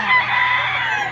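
A rooster crows loudly and close at a busy chicken market in Padre Garcia, one sustained call filling the moment with no talk over it.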